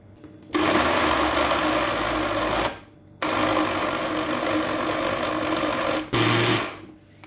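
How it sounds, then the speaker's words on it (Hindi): Ginger, green chilies and garlic are blended into a paste, with a loud high-speed whir running in three bursts separated by short pauses, close and alone. "अब हमने इसको ब्लेंड करके एक स्मूथ सा पेस्ट बना लेना है।"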